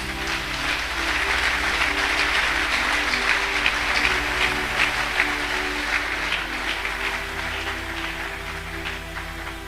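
At a convention, an audience breaks into sustained, dense applause that fills the room evenly over a low, steady hum.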